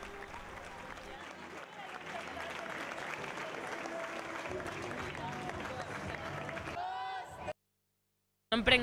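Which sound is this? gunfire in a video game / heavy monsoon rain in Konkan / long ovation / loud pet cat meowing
long ovation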